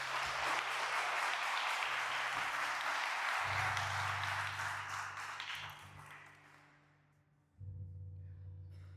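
A church congregation claps loudly and steadily at a Portuguese-language revival service, the applause dense and sustained under low music, then thinning and fading before the music swells back.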